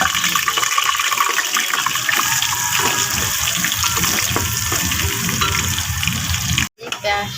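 Chopped onion sizzles in a pot with spices including cloves and cardamom, giving a loud, steady hiss of frying throughout that is briefly cut off near the end.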